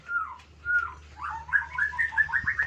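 A male white-rumped shama gives unhurried whistled calls: a few drawn-out slurred notes with pauses between them, then a quicker run of clear bright phrases, heard close and alone over faint low background hum.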